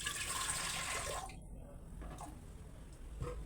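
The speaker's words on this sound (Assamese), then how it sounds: "ইয়াতে এটা প্ৰেছাৰ কুকাৰ পাতি দিছো আৰু ইয়াতে মই দিম অলপ পানী" Water running and splashing into a pressure cooker on a gas stove, a steady pour that cuts off midway and gives way to quieter drips and faint clinks.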